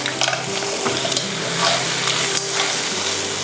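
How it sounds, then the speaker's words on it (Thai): Spaghetti with clams stir-fried in Thai chili paste makes a continuous sizzle, with sporadic scrapes and taps of a utensil tossing the noodles in a hot pan. "เวลาผัดเส้นนะคะ ก็จะต้อง อไม่ขยี้เส้นแรงเกินไปนะคะ"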